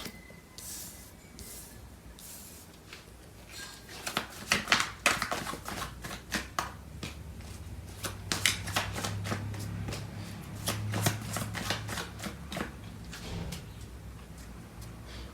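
Tarot cards being shuffled by hand, with quiet riffling at first that builds into rapid bursts of crisp flicking slaps, close and clear, no voices.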